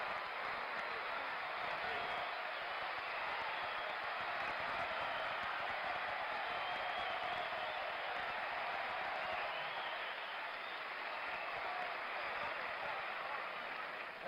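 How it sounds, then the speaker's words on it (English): Tennis crowd cheering and applauding at the 1976 US Open final between Jimmy Connors and Bjorn Borg, a sustained roar of applause that fills the whole stretch at a steady level. "Listen to the crowd."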